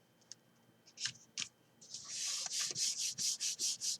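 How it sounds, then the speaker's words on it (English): Hands rubbing paper sleeves flat against a die holder during a craft project, a run of soft, rhythmic rasping strokes close up that grow louder and steadier toward the end, with a few light taps before. "And just rub your sleeves."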